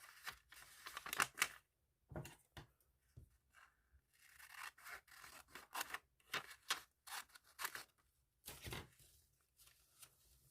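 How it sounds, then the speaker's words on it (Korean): Scissors snip through folded paper during a paper doll dress craft, a string of quiet close crisp cuts and rustles with short pauses between them. "쭉 가위로 한번 잘라주세요."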